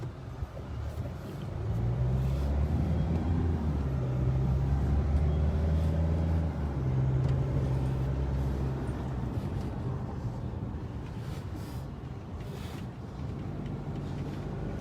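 An Isuzu Hi-Lander pickup truck with Prado rear disc brakes drives along, its engine a low steady rumble heard from inside the cab, swelling slightly for a few seconds before settling, with no talking.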